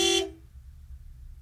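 A single short car horn honk in a video game, sounded from a broken-down car in foggy woods. It is loud at the start and then cuts off into a quiet low rumble.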